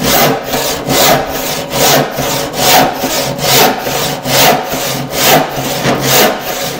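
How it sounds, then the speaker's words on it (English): A hand saw cuts through a wooden board clamped upright in a bench vise at a workbench, giving about a dozen regular rasping back-and-forth strokes, close and loud, with no talking. "An alternative way to saw at the workbench is to use the bench vise and hold the board vertically."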